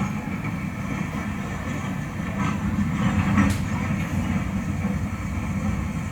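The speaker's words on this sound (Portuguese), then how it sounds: "E aqui você escuta o trem vindo," A steady low rumble of a train drawing closer at a historic park, with a brief brighter screech or hiss midway, fairly loud and continuous, no voices.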